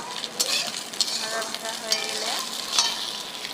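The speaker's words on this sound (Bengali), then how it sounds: "আলুটার সঙ্গে এখন ডিমটা ভালোভাবে যেন ভাজা ভাজা হয়, ভালো করে তাই আলুটার সঙ্গে এখন সঙ্গে মিশিয়ে নেব" Egg and potato fry in a pan and are stirred with a utensil. Steady sizzling runs throughout, with sharp scraping strokes and clinks against the pan at irregular intervals.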